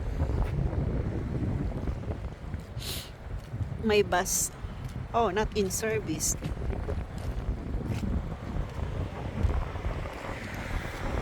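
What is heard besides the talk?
strong wind blowing near waterfront in Wellington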